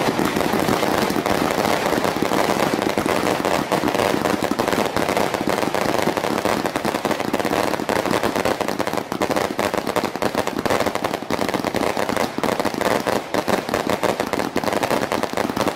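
A 100-shot Golden Blaster firework cake with golden mine and golden effects fires in a rapid, unbroken barrage of loud crackling bursts, going off one after another for the whole stretch without pause.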